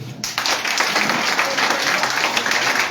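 At a political party gathering, an audience breaks into applause after a brief pause, a close, dense burst of clapping that stays strong and steady.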